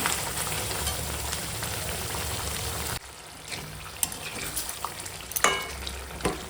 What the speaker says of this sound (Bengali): চিকেন পাতা এখন এই টক দইটার সঙ্গে খানিক্ষণ রান্না করবো